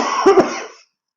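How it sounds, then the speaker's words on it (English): A single close, short cough with two sharp bursts, then silence. "just having a little cough"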